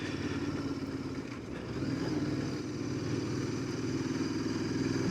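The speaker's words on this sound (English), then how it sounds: "I decided to still get back on the bike" A Royal Enfield Interceptor 650 motorcycle being ridden on Thai roads, its parallel-twin engine droning steadily under loud wind rush, with no one talking.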